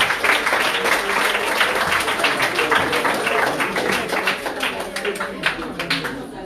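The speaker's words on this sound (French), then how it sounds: "voilà, que je vous demande d'applaudir." Audience applause at a French collège republican ceremony, a loud, dense and sustained clapping from a large crowd filling the whole stretch, with individual claps standing out near the front.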